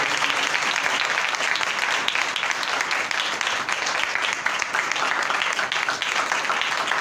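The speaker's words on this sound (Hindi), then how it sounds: "मैंने अर्ज की जोरदार तालियां" A church congregation at a Hindi-language sermon claps loudly and continuously, a thick wash of many hands that holds steady from start to finish.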